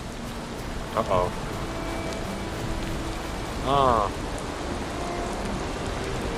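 Rain pours steadily in the Valheim video game, a constant even hiss throughout, while a player briefly exclaims twice over it.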